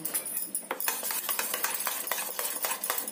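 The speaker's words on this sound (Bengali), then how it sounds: "দুধটাকে ভালো করে গুলে নেব।" Milk powder being stirred into a little water in a bowl with a spoon, giving a busy run of quick scraping and light clinking strokes, close and steady throughout with no voices.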